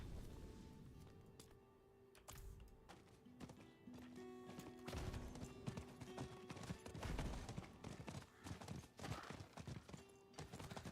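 Hooves clatter in quick, irregular clip-clop as a horse gallops in Diablo IV, with scattered sharp knocks and a faint whinny-like tone, all fairly quiet.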